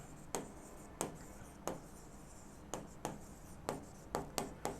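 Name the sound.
writing general reserve entry on board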